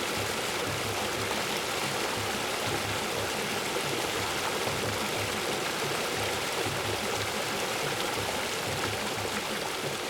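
Flowing stream water, a constant full rushing burble at steady loudness throughout, with no voices.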